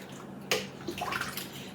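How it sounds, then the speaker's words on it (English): Water from a mug is poured into a pot of creamy potato soup in a kitchen, giving a sudden splash followed by a short, soft gurgling trickle close by. "we're going to add in another mug of water."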